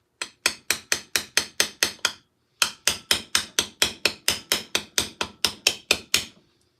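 Armour plate being hammered by hand in a garage, a fast even run of about twenty sharp metallic blows with a short pause near the start, loud and close with no talk.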